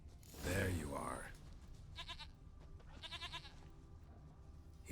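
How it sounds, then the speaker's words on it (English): A goat in the video game The Witcher 3 bleats in short wavering bursts, set against rustling ambient game noise and a voice. "Here, goat."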